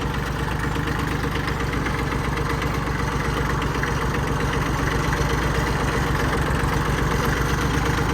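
Kubota B7200 compact tractor diesel idling steadily after starting, a continuous low rumbling throb with an even knock, close and constant throughout with no voices.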